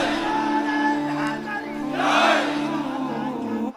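A large crowd at an urs religious gathering in Hafizabad shouts the slogan Naara-e-Haidari in unison, a loud sustained roar of massed voices that swells toward the middle before cutting off.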